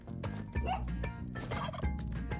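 Turkey gobbles from the video game Spelunky 2, heard as short rattling calls over a dense, steady game soundtrack, with a couple of sharper bursts standing out from the busy background.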